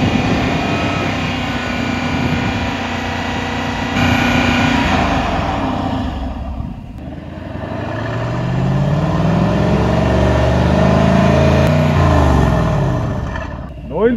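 A Mercedes-AMG GLC 63 with its stock exhaust runs loud and close, holding a steady drone and then swelling into a rising rev that peaks and falls away near the end. A voice speaks in the background.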